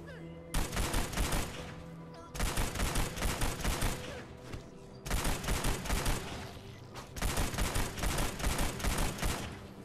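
Rocket launcher fire in the zombie survival game Dawn of Zombies: four loud, sustained barrages of rapid blasts, each lasting about two seconds, separated by short quieter gaps.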